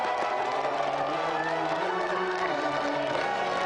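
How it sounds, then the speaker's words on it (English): Studio audience applauding and cheering on a television games show after a Virtua Fighter 2 tournament, a steady crowd wash with a presenter's voice running over it. "Another round of applause then for Joel, Hatim and Gordon."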